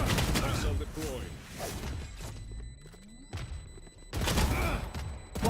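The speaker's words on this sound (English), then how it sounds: "Missile deployed." Missile strike in Valorant during a match: heavy booming impacts and crashing bursts, loud and close, with a rising whoosh in the middle and a second strong blast near the end, mixed with game voice lines.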